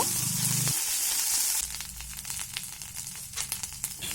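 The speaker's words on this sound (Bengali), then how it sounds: "পেঁয়াজটা প্রায় ভাজা হয়ে গেছে এরপরেতে দিয়ে দেব আগে থেকে বেটে রাখা রসুন ও আদার পেস্ট" Chopped onion sizzles and crackles in hot oil in a pan for a village-style spiced kundru curry, then garlic and ginger paste is added with a brief hiss and scraping stirs; close and fairly quiet, with no speech.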